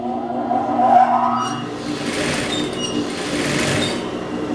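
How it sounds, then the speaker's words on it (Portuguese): A sewing machine stitches fabric for a blouse, its steady whirring motor running continuously at close range with no talking. "Vou costurar."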